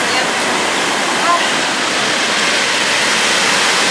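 A waterfall near a beach pours in a loud, steady broadband rush of falling water, continuous and close, with voices faintly mixed in.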